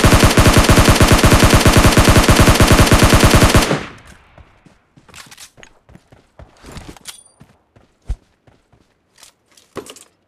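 Rapid automatic gunfire from PUBG Mobile Lite bursts loudly for a few seconds, then stops, followed by scattered footsteps and occasional sharp impacts.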